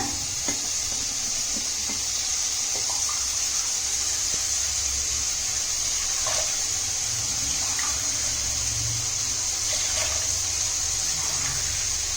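Water from six tumblers is poured into a cooking pot for soft venn pongal, a steady close pour with faint clinks and a continuous rushing hiss throughout.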